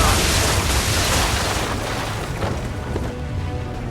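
Heavy ship cannon fire in a naval battle in Assassin's Creed 3, a loud sustained booming roar of broadband blasts that gradually thins over several seconds.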